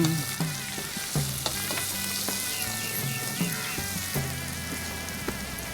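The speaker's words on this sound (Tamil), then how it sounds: "வெங்காயத்தை இப்போ இதில் போட்டுக்கலாம்." Chopped onions fry in a pan for a curry base, giving a continuous close sizzle broken by sharp stirring clicks and scrapes, with no voices over it.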